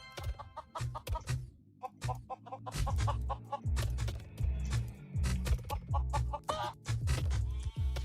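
Chickens cluck repeatedly in a minigame battle royale video game, the short bursty calls coming in quick succession over steady low game background sound.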